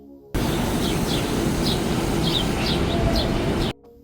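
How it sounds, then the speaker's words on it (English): Birds singing in downtown Toronto in February, with repeated short chirps spread through a few seconds over a steady, fairly loud wash of city noise. "Birds are singing."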